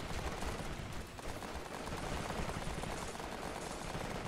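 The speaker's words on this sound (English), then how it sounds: "Shots fired." Dense, continuous gunfire in a military shooter video game, a rapid, muffled stream of shots and bursts that fills the scene without pause.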